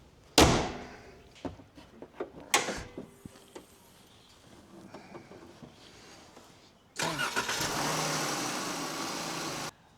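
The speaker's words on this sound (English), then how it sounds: "We go take it out for a ride." A car door slams twice, then rattling and clunks, followed by an engine cranking and starting into a loud, steady run, heard nearby with no talk.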